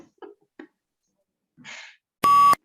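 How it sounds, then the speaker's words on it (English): A PTE speaking practice test gives one loud, steady electronic beep lasting about a third of a second, following a few faint breaths and small mouth noises in near silence. "I'll wait for the beep."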